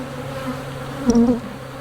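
Dense, droning buzz of many honey bees at an open hive being split into nucs, steady and close, with a brief louder swell midway.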